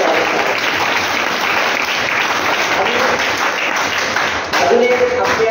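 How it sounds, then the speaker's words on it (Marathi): A crowd at a Marathi school felicitation ceremony claps loudly and steadily throughout, a dense close wash of hand claps that shifts slightly near the end. "सर्वांनी अगोदर त्यांचं जोरदार टाळ्या."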